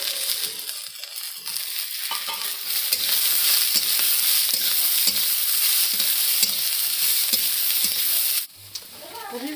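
Green chillies and shredded cabbage stir-frying for fried rice, a loud, steady sizzle with scraping stirs throughout that drops off sharply near the end.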